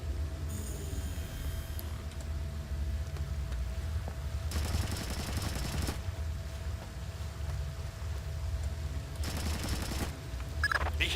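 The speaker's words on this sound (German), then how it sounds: "Ich habe Schüsse gehört, Sam." Splinter Cell: Chaos Theory gameplay with two bursts of distant rapid gunfire, each lasting about a second and a half, over a low steady ambient hum.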